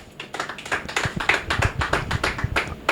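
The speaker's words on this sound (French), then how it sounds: "Sous vos applaudissements, on reçoit Estras Mbemba." Applause from an audience welcoming a stand-up comedian on a stage show, a modest group clapping in a quick, uneven patter, fairly close and without talk.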